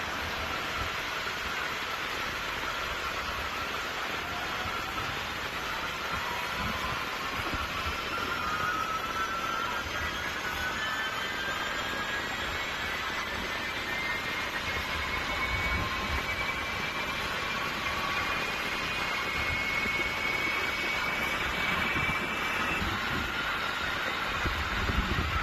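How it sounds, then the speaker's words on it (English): A GE90 aircraft engine spooling up after two years in storage, a steady broad roar with rising whining tones climbing slowly over the run, loud and continuous without talk. "Powering up a GE90 engine after being in storage for 2 years."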